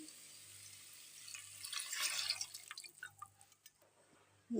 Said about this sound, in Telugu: కుక్కర్లో ఉడకబెట్టుకున్న నీళ్లు పోసుకోవాలి